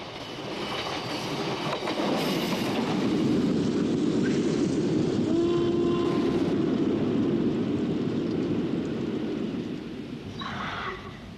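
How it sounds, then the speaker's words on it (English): A steam locomotive, an 8F, restarting its train near a canal tunnel and aqueduct, heavy rumbling rolling noise building and holding loud, with a brief squeal or whistle tone midway before easing slightly. "the 8F restarts its train and begins its 3-mile and 62-yard journey beneath the Penines"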